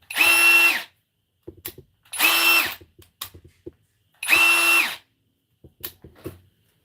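An 18/20-volt cordless drill on its drill setting whirs in three short bursts about two seconds apart, switched between speeds, each rising to a steady whine, with small clicks and handling noises between.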